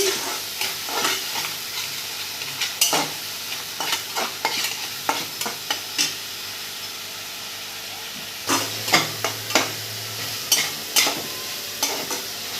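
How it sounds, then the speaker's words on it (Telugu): Spices fry in a pan for a Telugu-style sea fish curry, a steady sizzle broken by repeated sharp stirring scrapes of a spoon, close and moderately loud with no talking. "వేగుతుందండి."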